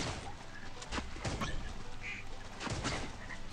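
Several quacks from a duck in the game Swamp Attack 2, a couple of short bursts over light background game sounds.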